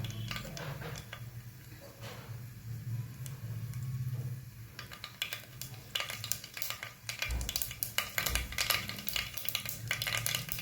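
Mustard seeds sizzling and popping in hot oil as a base for cabbage curry, a soft sizzle with scattered crackles that grow denser and louder toward the end.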